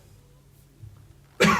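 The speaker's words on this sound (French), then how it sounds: "tousser dans son coude." A single short cough breaks out suddenly near the end, after a moment of near silence with faint low background noise.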